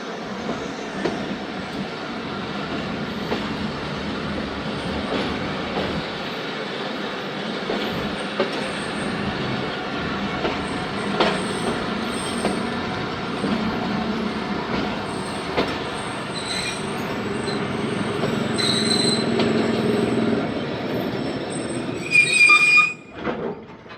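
A Tezgam Express train rumbles steadily along the rails into Ghotki railway station, slowing with a continuous roar, then high metallic wheel squeals ring out near the end.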